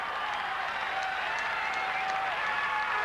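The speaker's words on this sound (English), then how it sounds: "To the applause of the crowd" Crowd applause and cheering along the roadside at a Tour de France time-trial stage as the last cyclist sets off, a steady, dense wash of clapping that holds for the full moment without a break.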